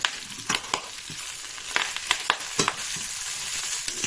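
Bean sprouts and pork belly stir-fry in a hot pan, a loud, steady sizzle up close, broken by repeated scraping and clattering stirs at an irregular pace, with no voices.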